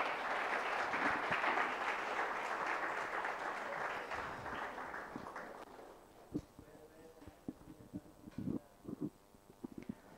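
Crowd applause at a project competition prize ceremony, sustained clapping that gradually fades out, followed by scattered thumps and footsteps in the hall.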